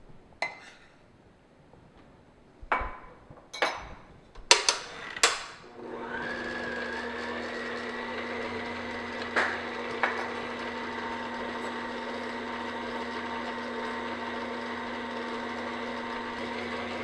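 An electric stand mixer beats sugar into royal icing, first with a few clattering knocks as the bowl is scraped, then a steady, close motor whir with a high whine that runs unbroken to the end.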